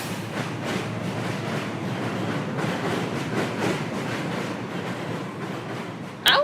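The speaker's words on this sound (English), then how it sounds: "The train rolls on with even more speed and hard brakes." Steady rumbling of a train rolling along with faint rhythmic clatter, ending in a sudden sharp metallic squeal.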